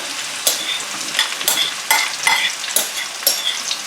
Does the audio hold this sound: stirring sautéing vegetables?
yes